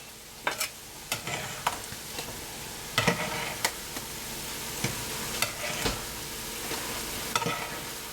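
Noodles fry in a pan with a steady broadband sizzle, punctuated by irregular clacks and scrapes of stirring, close by and without talk.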